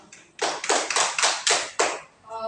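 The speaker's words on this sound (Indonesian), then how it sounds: "Kita beri aplaus untuk kelompok 2." A classroom gives a short round of applause for a student group, about six loud, closely spaced bursts of clapping that fade out quickly, with no talking.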